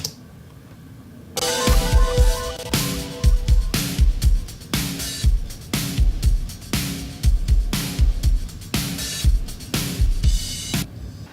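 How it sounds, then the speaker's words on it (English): A full drum kit groove with punchy kick and crisp snare hits in a steady, driving rhythm, loud and upfront with no voices. "let's take a quick listen to what the drum group sounds like"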